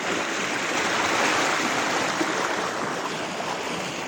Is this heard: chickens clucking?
no